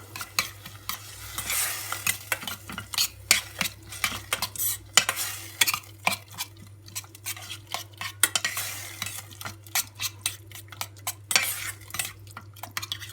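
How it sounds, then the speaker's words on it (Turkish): Pepper and tomato paste sautéed in a pan for dried bean stew, a spoon scraping and clattering against the pan in quick irregular strokes over a soft sizzle, close and fairly loud, with no talking. "Ardından bir yemek kaşığı biber ve domates salçası karışık döküyorum içerisine. Yine güzelce kavuruyorum."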